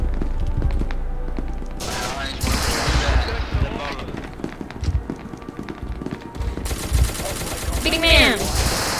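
Rapid gunfire fills a round of SCP: Secret Laboratory, with bursts of automatic shots and scattered booms, fairly loud and dense, while players shout over it.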